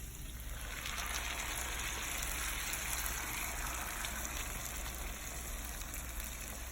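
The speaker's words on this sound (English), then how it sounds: "now we're going to go ahead and add our sauce" Green sauce pours steadily onto pork ribs with cactus, a continuous gushing, hissing wash that holds at an even level throughout with no talk.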